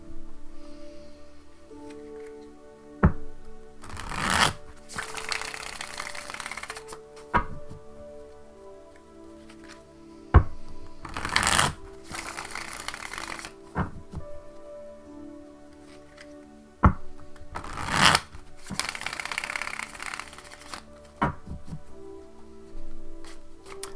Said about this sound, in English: I like to shuffle a lot, so just give me a second here.